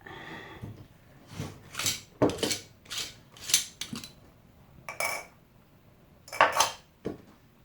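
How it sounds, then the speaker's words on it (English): A homemade mixture being shaken in a container on a table: a series of irregular rattling, clinking bursts of liquid and vessel, close and fairly loud, separated by short pauses, with no talk over it. "give that a good shaking up"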